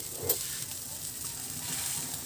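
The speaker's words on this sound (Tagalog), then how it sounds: "tingnan natin at kumukulo-kulo na siya" Chicken broth for Filipino nilagang manok simmering in a pot, giving a steady soft bubbling hiss that runs evenly throughout with one brief clink near the start.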